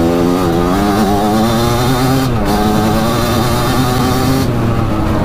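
A 1987 Kawasaki Tecate 4 race quad with a two-stroke 250cc engine revs loudly and steadily at high RPM, its buzzing drone rising and falling slightly with a brief dip midway, close by and alone.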